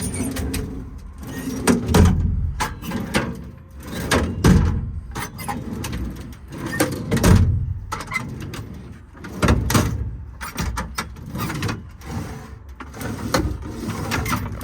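Several drawers on a 2018 Ram 5500 Cummins diesel crane service truck body slide open and shut in turn, each a rough scraping rumble from drawers needing lubrication, close by and fairly loud.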